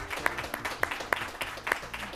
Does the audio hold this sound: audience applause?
yes